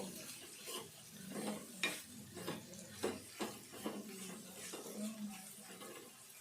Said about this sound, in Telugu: ఈ రొయ్యలు మంచిగా ఇట్లా వేగాలి